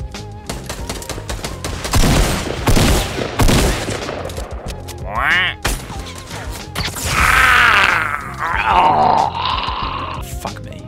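Shotgun fire in the Fortnite video game, sharp loud blasts and bursts among a busy mix of game effects and whooshing sounds, with brief vocal groans.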